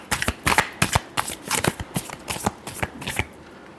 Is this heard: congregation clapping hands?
no